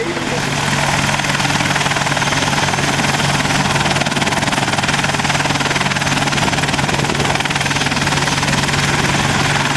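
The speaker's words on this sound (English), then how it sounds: "It's well known that the Chinook makes an incredible sound while in flight." A Chinook helicopter drones steadily overhead at an airshow, its rotors thumping in a constant, loud, unbroken rhythm that fills the whole stretch.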